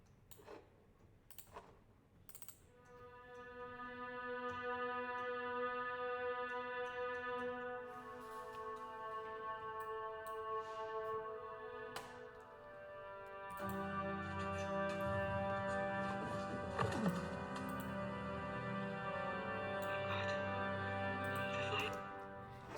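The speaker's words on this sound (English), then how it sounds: "I picked string ensemble." A string ensemble patch with sustain and auto voice split plays long, layered held notes that swell into a fuller, denser texture partway through, quiet and alone, with a few faint ticks near the start.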